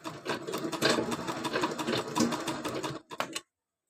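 A sewing machine stitches a fall onto a saree, a steady, close, continuous mechanical whirring that runs for about three seconds before stopping abruptly, followed by a couple of short final bursts.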